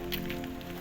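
Heavy rain during a thunderstorm, a steady dense hiss of drops pattering on surfaces, loud and continuous with no voices.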